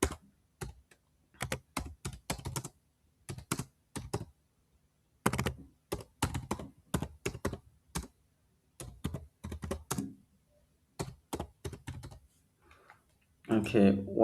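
Someone types task entries on a computer keyboard in a productivity app: close, crisp keystrokes arrive in quick clusters separated by short pauses.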